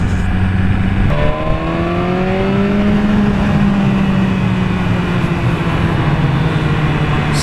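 A fast motorbike roars along at speed, its loud engine note climbing in pitch through gear changes over steady wind and road noise.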